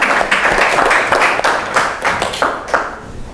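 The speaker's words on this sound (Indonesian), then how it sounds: "Tepuk tangan untuk kelompok" Students clap for a presenting group in a classroom, a brief ragged round of applause with individual claps standing out rhythmically before it tapers.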